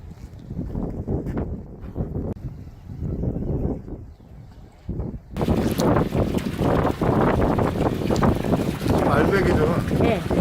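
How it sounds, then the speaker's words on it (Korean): Strong wind buffets the microphone at a campsite by Mandae Harbour in Taean, a low, heavy roar that swells and surges throughout while people talk over it. "바람은 엄청 많이 세게 불립니다"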